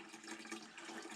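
Hard cider pours from a tipped vessel during racking, a brief, soft, continuous trickle of liquid heard close and faint.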